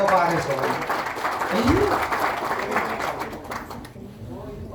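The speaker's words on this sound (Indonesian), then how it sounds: "Tepuk tangan untuk Pak Aris." An audience claps for a man named Pak Aris at a closing event, a broad, steady patter of applause under a person speaking.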